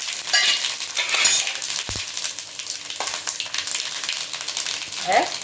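Mustard seeds crackle and sizzle in hot oil in a home kitchen pan, a steady bright fizz with scattered pops and a few clinks, continuous and close throughout.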